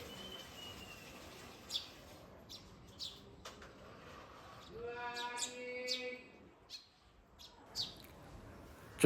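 House sparrows chirp in short bright bursts, faint and somewhat distant over a low background hum, with a steadier run of calls in the middle.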